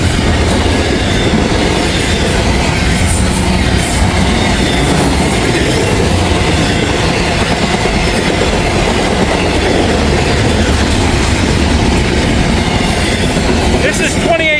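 Freight train hauled by a Norfolk and Western heritage locomotive rolling past in Grove, Kentucky, with FedEx containers in the consist; loud, steady rumble and wheel clatter throughout, a faint squeal near the end.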